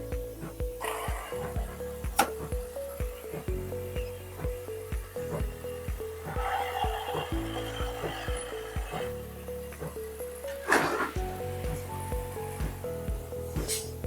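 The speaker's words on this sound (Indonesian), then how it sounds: "uniknya adalah ini mengebor 3 lubang sekaligus" Machine noise in a UPVC door and window frame workshop: a steady low mechanical drone with repeated whirring bursts from a machine drilling three handle holes at once, and clatter, fairly close and continuous.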